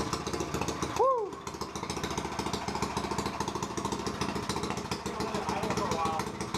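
A Harbor Freight Predator 212 engine swapped into a Yamaha dirt bike runs with no exhaust fitted, a loud, rapid, steady close-range chatter with a brief revving whoop near the start.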